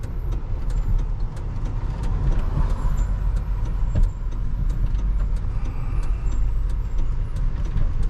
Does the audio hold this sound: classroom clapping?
no